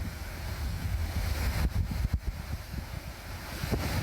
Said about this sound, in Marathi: वाळवा तालुक्याच्या रेठरे धरण तलावाच्या बाहेर असणारा धबधबा हा सध्या ओसंडून वाहतोय।